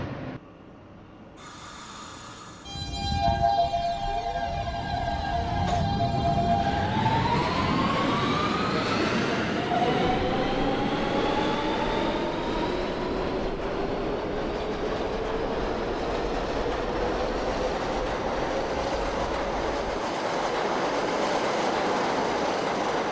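An R160B Siemens subway train on a Manhattan-bound T local, simulated in the OpenBVE train simulator, closes its doors with a chime, then motors whine and rise in pitch as it accelerates, with steady rumbling wheel noise throughout.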